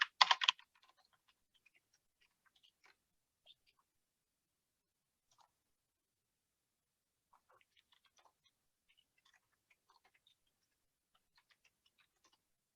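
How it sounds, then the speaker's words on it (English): A computer keyboard gives a short loud burst of keystrokes, then only faint, scattered taps spread thinly across a very quiet room. "Okay, typing it into real Google this time."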